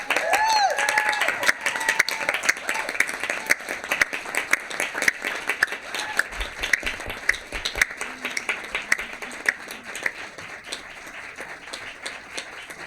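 Sustained applause fills a council chamber in honor of Craig Howard, dense clapping running steadily for over twelve seconds before gradually thinning, with a few voices faintly mixed in.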